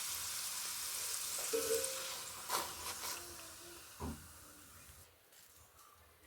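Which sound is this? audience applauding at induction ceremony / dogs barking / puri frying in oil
puri frying in oil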